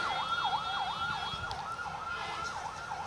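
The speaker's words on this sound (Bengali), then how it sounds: "ডানে কি অ্যাম্বুলেন্স যাচ্ছে তো" An ambulance siren wails with a steady rising and falling tone. It sounds moderately distant over a rumble of road traffic and keeps going throughout.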